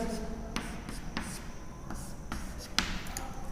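A pen scratches and taps across paper while someone works through coordinate geometry, with short strokes and small knocks in an uneven rhythm, close and fairly quiet, with no talking.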